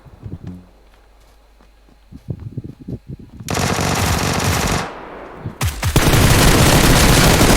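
Automatic gunfire in the game PUBG Lite, first scattered single shots and footsteps, then long loud sustained bursts of rapid fire close up, broken by a brief pause before another heavy burst.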